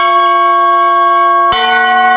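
A school dismissal bell rings out in a loud, sustained metallic tone, struck again partway through with a fresh clang and lingering ring, with no voices.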